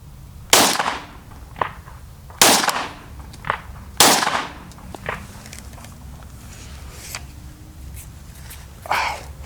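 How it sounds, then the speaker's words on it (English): A Glock pistol fired outdoors in cold weather gives three sharp, loud reports in a row, then a few quieter pops and clinks, with a distant shot at the end and no speech. "That thing is definitely the snappiest Glock I've ever fired."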